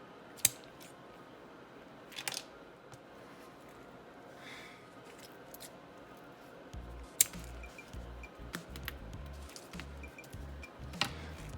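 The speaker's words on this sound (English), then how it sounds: "I just snip it to get it out of the way." A wire being snipped off a fan connector, a few sharp, quiet clicks of cutters against a faint low hum and light handling noises.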